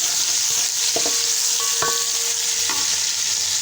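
Ginger-garlic paste and onion frying in a pot, giving a loud steady hiss with a few faint metallic clinks of a spoon and no talk.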